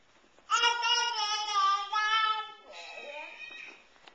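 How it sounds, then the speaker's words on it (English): A cat gives a long, drawn-out meow, then a second shorter, wavering one, close and clear with no other sound around it. "What does the kitty say? Meow."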